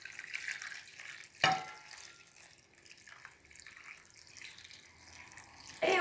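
Broth is poured over stuffed cabbage in a dish before it goes in the oven: a soft, close liquid splashing and trickling, faint overall, with a couple of brief louder sloshes.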